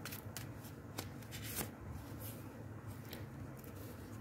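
A deck of oracle guidance cards is shuffled close by in a continuous papery riffle, with several sharper snaps as the cards slap together.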